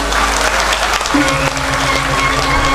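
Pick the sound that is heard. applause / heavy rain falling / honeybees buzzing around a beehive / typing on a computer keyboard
applause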